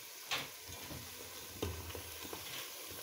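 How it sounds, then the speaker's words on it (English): Onion and salted fish fry in a pan for a family stew, giving a steady soft sizzle with a few faint ticks and pops, low and continuous with no voices. "I'll allow it to fry for 5 minutes or 10 minutes."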